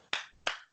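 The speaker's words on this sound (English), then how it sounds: "stop clapping" Two sharp hand claps about a third of a second apart, close and fairly loud, each a crisp broadband burst that fades quickly, with no voices.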